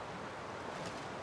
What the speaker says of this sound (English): Oh, wow, it's too windy.